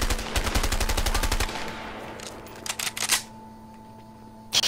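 A pump-action shotgun in A Way Out fires a rapid string of loud sharp blasts, then a few scattered shots and mechanical clicks trail off into quiet.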